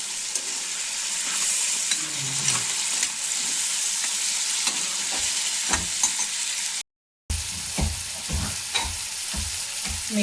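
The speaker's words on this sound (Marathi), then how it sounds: "छान परतून घेते तेलामध्ये" Turmeric, red chilli powder and salt sizzle and fry in hot oil in a pan while they are stirred. The crackle is steady and loud, with the scrape of stirring, and it stops briefly before the sizzling resumes.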